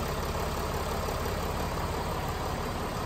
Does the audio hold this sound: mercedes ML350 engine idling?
yes